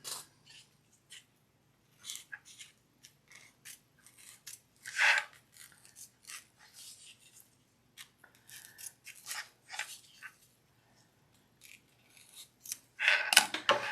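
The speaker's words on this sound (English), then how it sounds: "I wonder if smaller scissors would be easier." Large scissors snip through duffle bag fabric in a string of short, sharp close-up cuts with brief pauses between them, sometimes crunching louder as the blades bite thicker layers, all in a quiet room.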